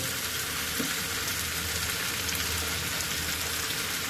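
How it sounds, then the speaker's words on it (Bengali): Food fries in a pan with a thick, rain-like hiss that stays loud and even throughout, close to the ear, with faint stirring movement mixed in and no talking. "এভাবে ঘুরে ঘুরে ভাজতে হবে"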